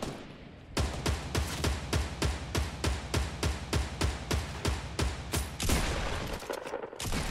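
Shotgun blasts in Fortnite: Battle Royale, about fifteen loud, sharp shots in a steady quick rhythm, followed by a short lull at the end.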